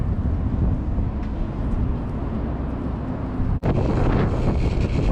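Strong wind buffets the microphone continuously at a snowy campsite beside a camper van, a loud, steady roar with one brief dropout before the gusting resumes.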